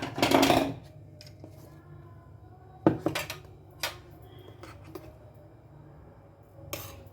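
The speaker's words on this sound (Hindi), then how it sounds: "अब मैं इसको एयर टाइट डिब्बे में डालने लगी हूँ।" Mint chutney made with salt, pomegranate seeds and lemon juice is spooned into an airtight container, with scattered close clinks and scrapes of a spoon against the container and a few knocks between quiet pauses.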